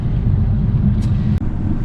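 A 2007 Alfa Romeo GT 1.9 JTDm drives along on a rainy day, its low steady engine and road rumble filling the cabin with a constant drone and a couple of faint clicks.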